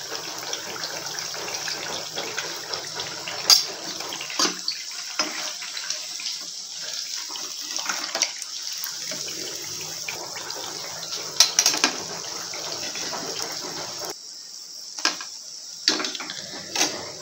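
Wheat flour appam deep frying in hot oil, a steady close sizzle and hiss with crackling pops, easing briefly at moments and continuing without speech.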